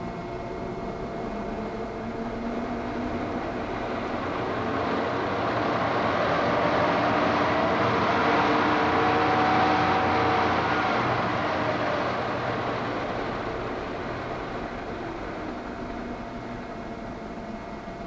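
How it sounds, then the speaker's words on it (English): A bus dynamo spins steadily on a power-driven test bench in a transport workshop, giving a continuous broadband machine whine and hum that swells slightly mid-run and holds level throughout, with no talk. "After reassembly, the dynamo is put through its paces on a power-driven test bench which reproduces the conditions on the vehicle."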